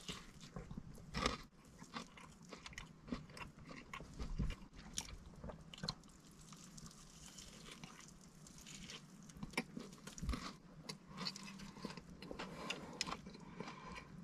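Biting into and chewing a towering KFC Zinger Skyscraper burger with three Zinger fillets and hash browns, giving close, irregular crunchy bites and wet squishy mastication over about fourteen seconds.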